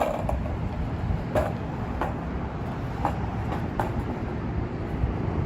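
An Amtrak train rolls steadily with a continuous low rumble, and faint rhythmic clicks of the wheels pass over the rail joints every second or so.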